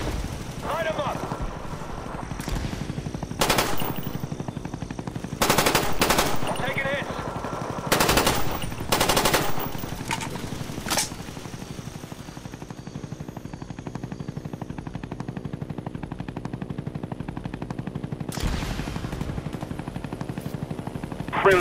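Helicopter door gunner's machine gun fire in Call of Duty: Black Ops, loud bursts of several seconds each over a constant rotor and engine drone, with game effects layered in.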